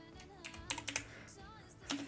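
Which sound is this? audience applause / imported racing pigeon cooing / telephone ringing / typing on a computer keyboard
typing on a computer keyboard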